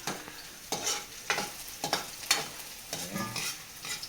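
Tofu fries in a pan with a soft, steady sizzle, and a utensil scrapes and stirs at a rhythm of about two strokes per second. No one speaks.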